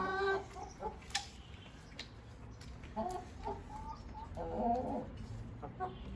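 Chickens on a poultry farm clucking softly, scattered short calls and a few sharper squawks from several birds, fairly close but quiet, with no talk.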